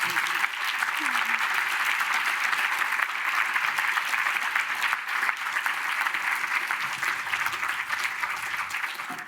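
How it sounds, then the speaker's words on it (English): Sustained audience applause at an awards ceremony, dense and steady clapping filling the whole stretch at moderate loudness, with no clear speech over it. "Now give them one more applause as they smile to the photographer."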